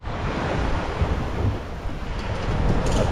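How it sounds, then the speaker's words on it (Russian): Choppy sea waves wash around a small boat off Sanloem island, Cambodia. A continuous roar of water runs under heavy wind buffeting the microphone, with no voices. "Волнение все-таки на море, видите, какое."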